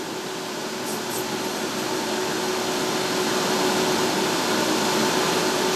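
A Doosan CNC machine with a Fanuc control jogs along its Y axis, a loud, steady whirring drone with a constant hum running through it and no pauses.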